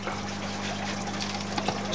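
Cold water poured over a tray of plants, a steady close trickle and splash running continuously for a couple of seconds without speech.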